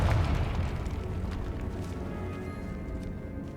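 A Confringo fire spell exploding in the video game Hogwarts Legacy: a deep booming burst at the start that decays into a rumbling, crackling tail, loud and alone.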